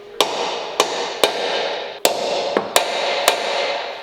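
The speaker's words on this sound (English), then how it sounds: "I've got a center punch, so I'm gonna go ahead and get those center punched." Seven sharp metallic hammer strikes on a center punch into metal ring out at irregular intervals over a steady background hum, each blow crisp and close.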